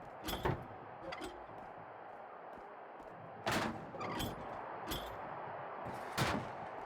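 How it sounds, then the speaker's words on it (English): A wrestler is slammed down in a power bomb in WWE 2K22, giving several sharp, heavy impact thuds spread apart over a low, quiet background. "Into a power bomb."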